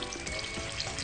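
Crispy food, bananas among them, fries and sizzles steadily in hot oil, a dense close crackle that holds through the moment with no one speaking.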